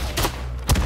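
Rifle gunfire in the Isonzo World War I shooter game, two sharp loud shots with a rumbling tail, spaced under a second apart.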